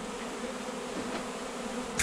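Captured swarm of honeybees humming at a hive entrance in May, a constant close buzzing drone with a brief louder burst at the end.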